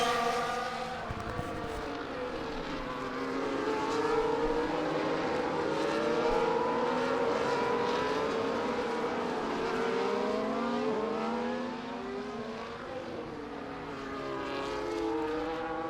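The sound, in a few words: race cars driving behind a safety car in a sim racing game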